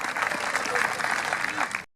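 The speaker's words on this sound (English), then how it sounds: "Big round of applause there for Dave stepping in" Brief crowd applause rises for Dave, a stand-in competitor at the Peak District Highland Games, after the first event, moderately distant and outdoors, lasting about two seconds before cutting off abruptly.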